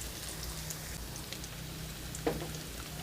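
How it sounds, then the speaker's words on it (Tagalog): Onion and garlic sizzling in hot cooking oil in a pan, a steady close crackle and hiss with a brief louder spatter near the end, no talking. "Magsisimula na po tayong maggisa. Sa isang kawali, nagpainit po tayo ng mantika. Lalagyan natin yung ating onion, bawang"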